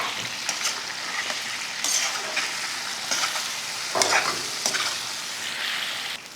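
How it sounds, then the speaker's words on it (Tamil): Prawns fry in hot oil in a home kitchen, a steady close sizzle with crackling pops and occasional stirring scrapes, no voices. "எண்ணெய் நல்லா காஞ்சதுமே இறால் போட்டு வறுத்துக்கலாம்."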